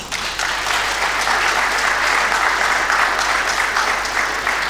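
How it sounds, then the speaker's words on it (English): Audience clapping for a presenter at the 50th anniversary event of the UNESCO Intergovernmental Hydrological Programme, a dense, steady round of applause throughout, loud and sustained with no voices over it. "Another round of applause for him."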